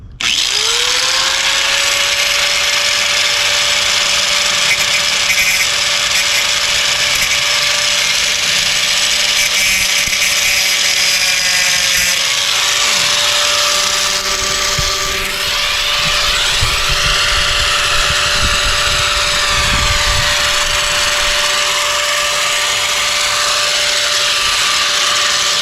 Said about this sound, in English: So we're going to grind this off.